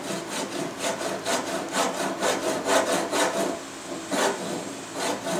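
A hand tool cuts excess wood away from a wooden mallet with a steel hoop in rhythmic back-and-forth rasping strokes, about two per second, close and clear, with no voices.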